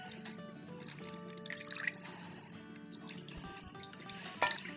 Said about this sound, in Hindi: अब इस पे हम क्या करते हैं कि थोड़ा सा आधा कप पानी डाल देते हैं।